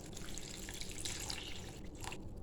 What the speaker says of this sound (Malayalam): ഇനി ഇതിലേക്ക് നമുക്ക് ആവശ്യത്തിനുള്ള വെള്ളം ഒഴിച്ച് കൊടുക്കാം.